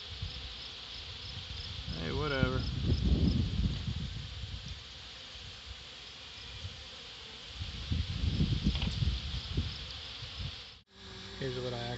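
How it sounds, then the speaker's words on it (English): A steady, high buzz of honeybees drinking water hums throughout, like many bees close by, while a person talks briefly over it and something rustles near the end. "The bees are drinking it like crazy."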